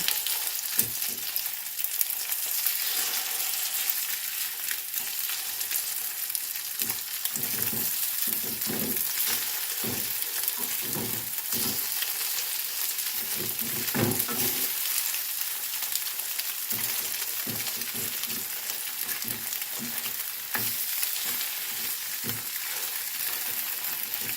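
Egg frying in a pan, a steady crackling sizzle that runs the whole time with scattered louder pops and occasional utensil scrapes, close by and without talk.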